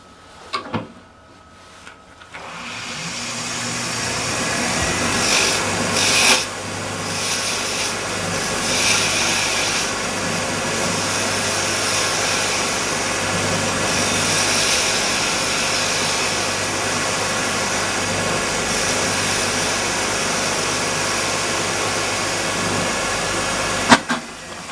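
A wood lathe turns a spindle for a napkin holder while a tool cuts a 45-degree chamfer. A loud, steady whirring rasp runs throughout after a short start with a few knocks, and no one speaks.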